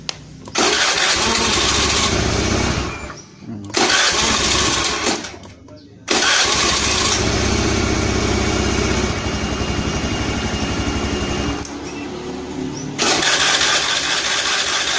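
A Honda Beat FI scooter with a faulty spool cable catches, cutting out and restarting several times, its engine running loud and close with brief silent dropouts between bursts.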